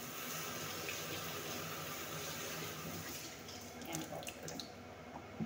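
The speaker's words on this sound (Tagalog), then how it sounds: "ugasan po muna natin ang ampalay" Bitter gourd (ampalaya) is washed under running water in a kitchen: a steady, close splashing and rushing stream with a few brief clinks and drips near the end.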